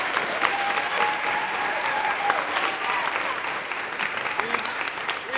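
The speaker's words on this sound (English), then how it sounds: "Round of applause." A theater audience applauds steadily after a school stage production of The Sound of Music, dense clapping filling the room at close range with faint voices mixed in.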